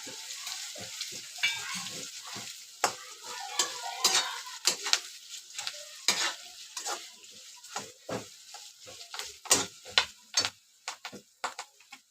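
Sesame seeds sizzle in hot oil while being stirred for a thin-poha chivda snack, with a quiet frying hiss broken by frequent close scraping and clinking strokes of a spoon.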